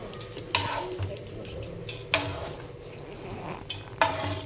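A sandwich roasting on one side in a pan gives a soft steady sizzle, with three sharp clinks of utensils against the pan spaced a second or two apart.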